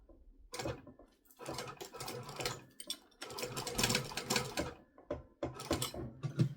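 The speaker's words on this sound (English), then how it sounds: "we're sewing opposite to what I normally would because of the way the presser foot is" A sewing machine stitches fabric for a phone sling in several short runs. Each run is a quiet, rapid mechanical whir, separated by brief pauses.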